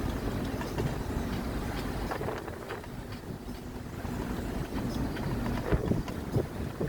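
A sailboat motors into a cove during a massive wind storm, its low engine drone and water wash blended with steady buffeting wind noise throughout, with no voices.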